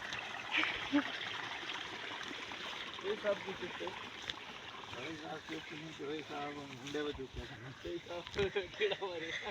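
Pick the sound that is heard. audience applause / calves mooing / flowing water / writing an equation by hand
flowing water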